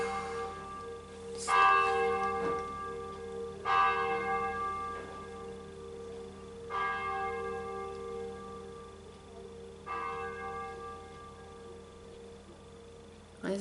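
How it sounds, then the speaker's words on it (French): A church bell tolls in slow, evenly spaced strikes, about five of them, each ringing out with a long humming decay at moderate distance. "que les cloches allaient encore sonner."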